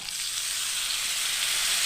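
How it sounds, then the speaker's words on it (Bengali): Cauliflower and potato pieces fry in oil in a pan, giving a steady, close, bright sizzle that holds evenly without pause. "ভালো করে কফি আর আলুটাকে ভেজে নিতে হবে"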